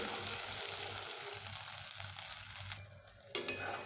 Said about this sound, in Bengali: মশলাটিকে আমি এভাবে মিডিয়াম হিটেই কষিয়ে নিচ্ছি